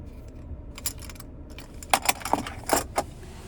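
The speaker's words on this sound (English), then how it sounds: "here's the key fob with remote start" Key fob with remote start for a 2026 Lincoln Nautilus Premier II handled close up, jangling and clicking in short bright bursts over a faint steady background hum.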